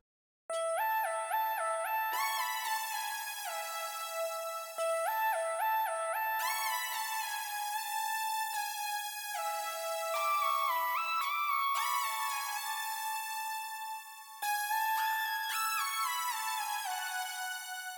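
Four layered synth lead lines stack into a full synth flute tone, playing a bright, continuous melodic phrase with rapid note changes, loud and steady with no talking.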